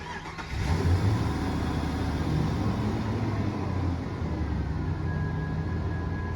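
A car engine cranked and started during a MAP sensor test, catching within a moment and then running at a steady, loud idle close by.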